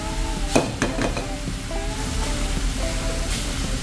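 Sizzling and frying in a hot pan as vinegar is added during home cooking with soy sauce, a steady hiss with a few sharp clinks of utensils against the pan.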